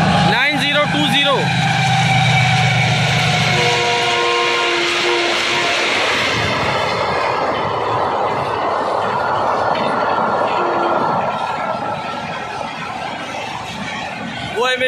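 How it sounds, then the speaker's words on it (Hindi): The 16 Down Karachi Express, led by a GEU-40 diesel locomotive, passes close by near Muradabad railway station with a loud blaring horn and then a sustained rumble and clatter of wheels and carriages, which slowly fades. "ये ट्रेन GEU-40 इसको लीड कर रहा है, 16 डाउन कराची एक्सप्रेस"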